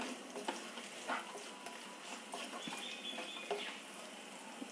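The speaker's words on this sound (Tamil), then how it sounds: "அப்படியே கொஞ்சம் திராட்சை கொஞ்சம் புஷ்ஷுன்னு வரட்டும்" Raisins sizzling and puffing up in hot ghee, a soft, steady frying crackle with faint stirring scrapes, quiet and close, no talking.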